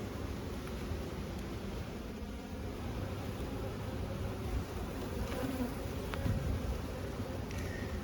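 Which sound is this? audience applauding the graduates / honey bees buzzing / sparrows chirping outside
honey bees buzzing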